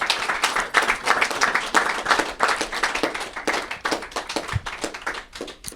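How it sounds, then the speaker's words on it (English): An audience gives a steady round of applause at a community gathering, many hands clapping close and loud in a dense, continuous wash for several seconds. "Give him a round of applause."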